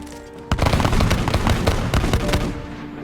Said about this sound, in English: A shot rings out.